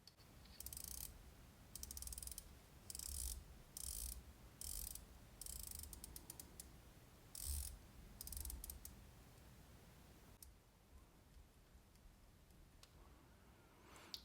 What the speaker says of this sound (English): each click of the 120 click bezel is sharply defined.